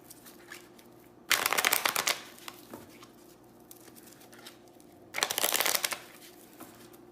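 Two quick bursts of playing cards being shuffled during a tarot-style reading, each riffle lasting under a second and heard close and crisp against a quiet room.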